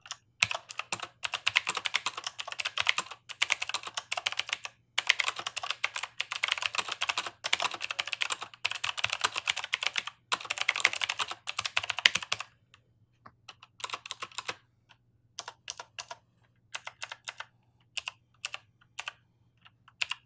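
Rapid, steady typing on a Motospeed K82 mechanical keyboard, dense clacking bursts for about twelve seconds, then sparser, slower keystrokes with short pauses, close and clear.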